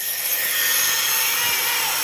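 A cutting machine working through a house's concrete columns gives a harsh, steady grinding rasp that runs loud and unbroken throughout, with no voices.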